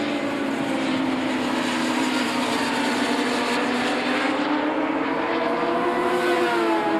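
A Kawasaki racing motorcycle ridden flat out on a circuit during a Lithuanian road racing championship final. It gives a loud, sustained high-pitched engine howl whose pitch rises and falls as it passes, with no talk.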